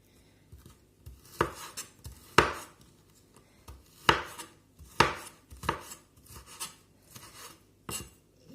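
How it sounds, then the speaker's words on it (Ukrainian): A knife slices through chicken liver on a cutting board, with sharp, irregular chopping knocks and soft scraping between them, close and fairly quiet, with no talking. "І ще дорізаю цю останню печіночку"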